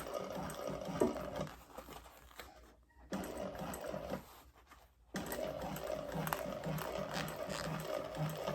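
A sewing machine stitches another row along a vinyl bag seam in three bursts separated by short pauses, a quiet close mechanical whir with no voices.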